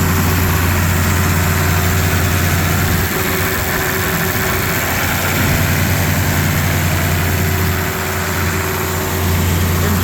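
An old John Deere 4020 tractor engine idles steadily and close by, with a deep, even diesel rumble and constant vibration, and no voices are heard.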